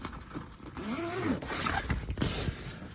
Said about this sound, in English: It's got a zipper that holds this on.